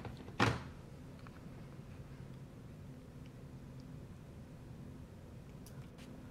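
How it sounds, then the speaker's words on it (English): The system bay door of an MSI GT60 laptop comes off with a single soft, close thunk, followed by near silence. "Once we have removed the necessary screws, it's really easy to lift up that bay door and get full system access."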